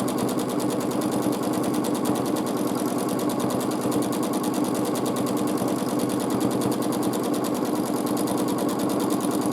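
A sewing machine runs at steady high speed while quilting a large quilt, its rapid needle chatter continuous and loud throughout with no pauses.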